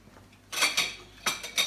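Cutlery clinks and clatters as a cake knife is fetched in a home kitchen where a fluffy chocolate cake was baked. About four sharp metallic knocks come close and fairly loud, with short gaps between them.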